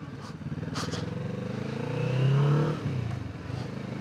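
A Kawasaki Vulcan S 2025 motorcycle engine, A2-restricted, idles close by, then revs up briefly and settles back, with a steady rumbling drone throughout.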